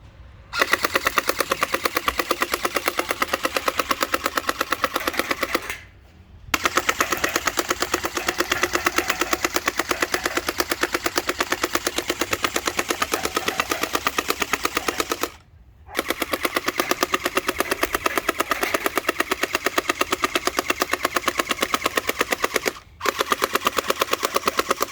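A double barrel gel ball blaster toy gun fires in long rapid bursts, a loud mechanical rattle that keeps going for several seconds at a time, cut by three brief silent pauses.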